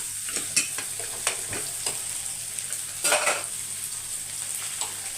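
Shallots sizzle steadily in a hot pan while a utensil stirs and scrapes now and then, with occasional light clinks and no voices.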